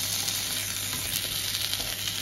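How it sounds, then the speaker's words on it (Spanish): Two small hamburger patties frying in a pan: a loud, dense, continuous sizzle of hot fat, steady and close, with no talking. "Mi niña va a comer dos hamburguesitas, que le voy a dar la vuelta, por cierto"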